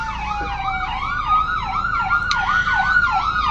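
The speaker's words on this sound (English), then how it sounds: "There's a loud ambulance going by." A loud ambulance siren wails close by, its rising and falling yelp repeating rapidly as it passes.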